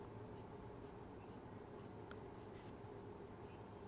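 A pen drawing curved lines and veins on paper for intricate pen art, a faint continuous scratching over steady background hiss, with no talking.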